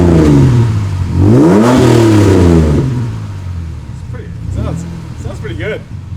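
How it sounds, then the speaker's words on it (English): A Ford AU Falcon fitted with Pacemaker extractors revs twice, the exhaust rising and falling loudly close by before dropping back to a rumbling idle, with a person talking over the engine. "All right. Can you rev it? Yeah, I'll rev it."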